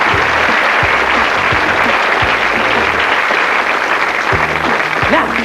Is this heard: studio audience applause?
yes